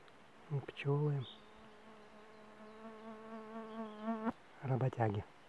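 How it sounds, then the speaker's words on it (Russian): Small forest bees buzzing close by, a steady droning hum lasting several seconds with slight wavering, bracketed by brief bursts of speech at the start and end. "Маленькие пчелки. Лесные, наверное."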